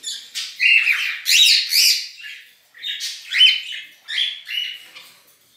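Shrill pet birds squawk and chirp in repeated bursts, several harsh calls overlapping at close range with short pauses between.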